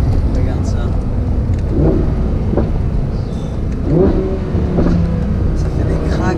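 Audi R8 V10 Plus engine coming through a slightly opened car window while cruising, a steady low roar with rising revs and cabin rumble, with faint voices under the noise.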